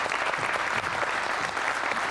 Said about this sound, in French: qu'on applaudit également